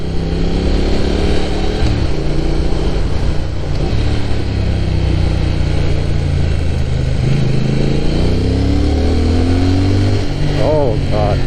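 Riding the Tsubaki Line, Route 75, in Japan, a motorcycle engine roars close and loud over heavy wind noise, the pitch climbing and dropping with shifts and a sharp rev near the end.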